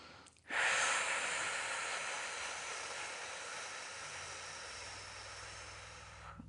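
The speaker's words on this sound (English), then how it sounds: "Exhale through pursed lips like you're breathing through a straw." A long, steady exhale through pursed lips during a lower back pain relief breathing exercise, a close airy hiss that begins abruptly and fades slowly over several seconds.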